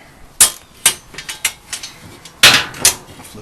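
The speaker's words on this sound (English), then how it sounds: "I'm going to have to reverse the ratchet here." During a GE washer repair, a ratchet wrench works in short bursts, a series of sharp metallic clicks and knocks spaced unevenly, loud and close, with no talking.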